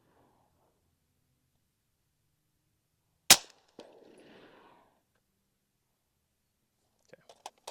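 LWRC M6A3 DMR rifle firing a single sharp, suppressed crack with a short decaying tail amid quiet surroundings, followed later by faint light clicks.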